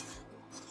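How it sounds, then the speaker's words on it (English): A whisk scrapes quickly and steadily through thickening enchilada sauce in a pan, a short, faint rasping rub. "Continue whisking, see how thick it becomes?"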